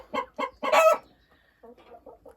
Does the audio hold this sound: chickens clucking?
yes